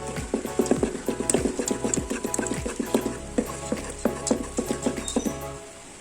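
Batter being mixed with milk or sour cream by an electric mixer, a steady whirring drone laced with rapid rattling ticks of the beaters against the bowl, close and continuous until it stops near the end.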